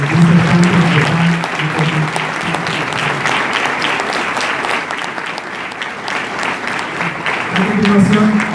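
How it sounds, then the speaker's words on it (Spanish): An audience at a panel on challenges of Veracruz's new criminal justice system applauds the speakers, a steady broadband round of clapping lasting throughout, with a voice briefly heard over it at the start and end. "nuevamente les pido un fuerte aplauso a cada uno de los disertantes"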